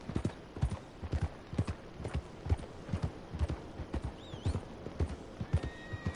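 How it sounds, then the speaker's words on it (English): A horse's hooves clip-clop in Red Dead Redemption 2, a steady, evenly paced run of sharp hoofbeats on hard ground, close and clear, with a faint whinny partway through. "That was my horse."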